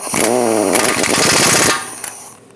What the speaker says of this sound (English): Gave it a couple extra taps with the impact